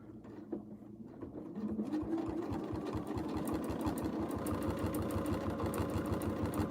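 A home sewing machine runs steadily during free motion quilting, its rapid needle strokes forming a regular mechanical chatter that speeds up after a brief start and holds close and loud with no talking.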